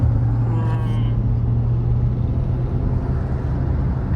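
A Tata Sierra engine drones loudly at high revs in manual mode, a steady strained hum close by from inside the car, with a brief higher whine early on and road noise underneath.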